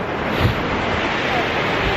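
Sea surf on a beach at Świnoujście, a steady broadband wash of waves with wind rushing across the microphone, continuous and fairly loud throughout with no talking.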